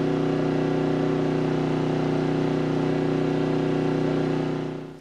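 A Maxpeedingrods 3500 W gas/LP generator running under load gives off a loud, steady engine drone with a strong low hum, constant throughout and fading slightly at the very end.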